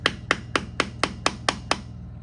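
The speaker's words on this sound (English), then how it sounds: "Screwdriver's going through the freeze plug, so I need to find a different method here." A screwdriver is driven into the metal freeze plug of an old V8 engine block, making eight sharp, evenly spaced metallic strikes close up, with no talking.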